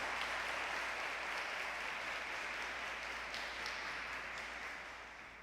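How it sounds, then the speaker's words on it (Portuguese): A church congregation gives a round of applause in worship, a steady, distant-sounding wash of many hands clapping that gradually tapers off toward the end, fairly quiet overall. "Dê uma adoração ao Senhor com a salva de palmas."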